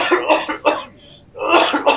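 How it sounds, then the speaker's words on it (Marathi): A man coughs in two harsh bursts, close and loud, with a short pause and then more coughing, like a persistent chest cough. "2 दिवसापासून खोकलून राहिला ना तू"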